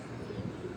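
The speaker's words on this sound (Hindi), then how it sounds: "जो काले मुंह वाला जो है ना कबूतर" A black-faced pigeon on a rooftop gives a short, soft coo, faint and brief under low background noise.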